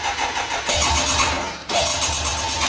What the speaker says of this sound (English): Then plug in the starter switch and focus test it directly.